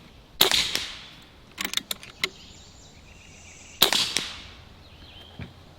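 Two sharp shots from a Barra 1100z Gen II budget airgun, each a crisp pop with a short ringing tail, separated by a few faint mechanical clicks of handling between them, nearby with no talking.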